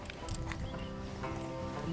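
Horse hooves clip-clop steadily at a stable on a nature heritage outing, moving close by against constant outdoor background noise, with occasional faint voices.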